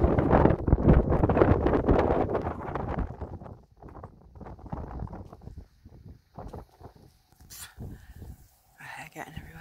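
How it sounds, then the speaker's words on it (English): Strong wind gusts buffet the microphone on a hilltop at Jubilee Tower above Morecambe Bay, a loud rumbling roar at first that eases into choppier bursts, with a person talking over it throughout. "It's very windy up here."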